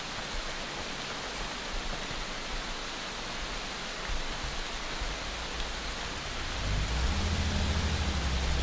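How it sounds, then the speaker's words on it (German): Rain in the video game Fear The Wolves hisses as a constant, even downpour filling the scene, with a low rumble rising near the end and no speech. "Immer wenn ich ein Spiel spiele, gibt es Regen."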